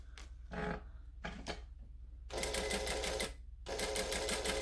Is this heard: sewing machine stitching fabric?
yes